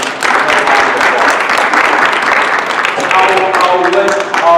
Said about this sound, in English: Can we give Tom McCarthy another round of applause?